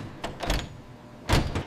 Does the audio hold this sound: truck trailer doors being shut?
yes